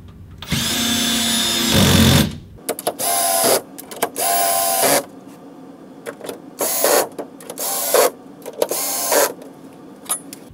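Power tool driving bolts of a corner tilt-and-swivel TV wall mount into a wall, loud whirring bursts of varying length starting and stopping repeatedly with short pauses between, close by and alone.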